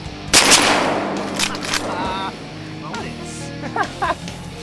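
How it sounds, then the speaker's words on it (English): Shotgun blasts ring out during a diver duck hunt, a loud close shot followed by a couple more reports, with hunters talking and calling out around them. "Shoot him, Matt."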